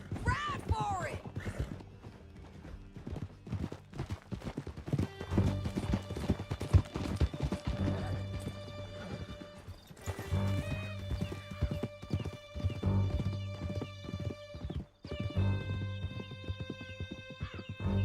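Horses gallop hard through a canyon in Red Dead Redemption 2, steady close clip-clop of hooves with whinnies and neighs, under music and shouted voices.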